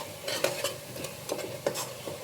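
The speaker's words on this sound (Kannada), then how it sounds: "ಧನಿಯಾ ಪೌಡರು 2 ಸ್ಪೂನು, ಅದು ಹಸಿ ಸ್ಮೆಲ್ ಹೋಗೋವರೆಗೂ ಫ್ರೈ ಮಾಡ್ಕೊಳ್ಳಿ" Coriander powder frying in a pan, with repeated spoon-scraping stirs over a soft steady sizzle, several quick strokes close by and no talk.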